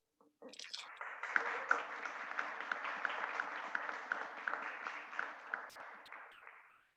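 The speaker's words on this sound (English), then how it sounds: "I hope you heard the applause right here from Dubai" Audience applause from a founder showcase gathering in Dubai, a dense, steady wash of many hands clapping that swells in quickly, holds for several seconds and tapers off at the end.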